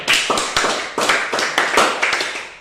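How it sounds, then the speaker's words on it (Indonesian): A class of students in a school lesson claps in unison, a crisp rhythmic pattern of quick beat groups that repeats about five times, close and loud, with no talking. "Ya, beri tepuk tangan dulu."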